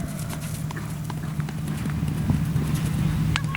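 A horse gallops around a show jumping course at an outdoor country event, its rapid hoofbeats clip-clopping at speed over a steady low background hum, fairly close and with no talk.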